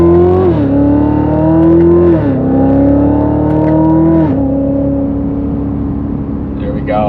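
A Chevrolet Corvette C7 6.2L fitted with an MBRP axle-back exhaust pulls hard through the gears, its loud, close engine note climbing, dropping at each shift and climbing again, then settling into a steady drone.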